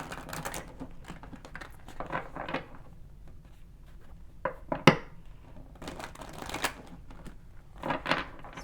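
Prism Oracle cards being shuffled make crisp, close riffling bursts in uneven clusters, with a sharp snap near the middle and quieter gaps between.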